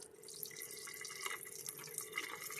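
Water poured into a jar of tomato seeds, a steady close splashing and trickling stream with faint drips, running continuously for a couple of seconds with no talk.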